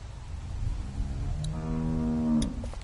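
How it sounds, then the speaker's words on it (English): A cow in The Walking Dead video game gives one drawn-out moo that swells near its end, loud and close over a faint ambient bed, with no one talking. "Do you want to pet the cow with me?"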